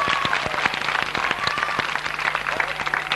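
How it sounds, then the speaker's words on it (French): Applause from an audience, steady clapping from many hands continuing throughout at moderate loudness. "Voilà, on applaudit, il est là-bas."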